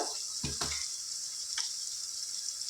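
Onions frying in oil for mutton curry give a soft, steady sizzle, broken early by a couple of quick scraping knocks of a spoon against the pan, then a single faint tap.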